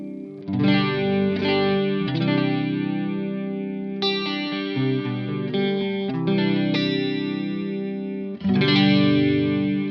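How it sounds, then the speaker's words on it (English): An electric guitar plays chords through a Boss Super Chorus pedal, notes swirling and warbling with a thick, doubled, shimmering sound and no talking. "a little bit of that super chorus"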